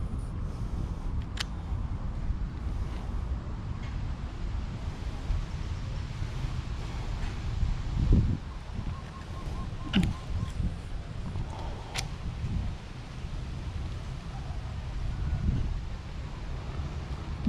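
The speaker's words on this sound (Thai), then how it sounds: "ก็ลมค่อนข้างแรงด้วยนะครับ" Strong wind blows across a canal where people fish for snakehead, a steady low rumble buffeting the microphone throughout, with a few faint clicks and knocks close by.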